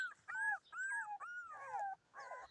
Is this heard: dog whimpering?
yes